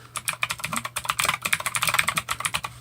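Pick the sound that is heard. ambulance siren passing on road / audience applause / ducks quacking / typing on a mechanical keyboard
typing on a mechanical keyboard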